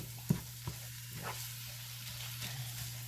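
Beef chili cooking in a pot gives a quiet, steady sizzle with a low hum underneath, broken by a couple of soft knocks early on, and no one speaking.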